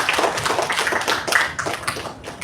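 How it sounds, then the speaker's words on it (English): Clapping after a talk on interview skills and mock interviews, a modest group of hands applauding unevenly at close range, with individual claps standing out as it thins toward the end. "A big round of applause."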